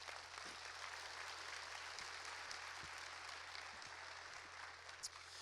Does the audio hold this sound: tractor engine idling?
no